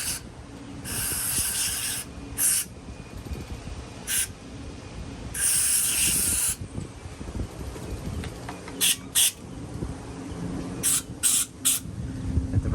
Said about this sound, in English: Got some electrical contact cleaner here.